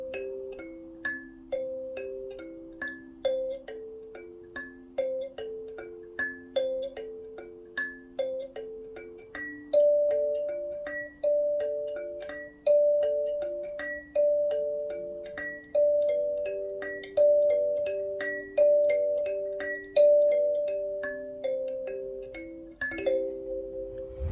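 Kalimba arpeggios are plucked quickly and evenly, each bright tine note ringing and decaying into the next in a repeating rolling pattern, clear and close with no talking.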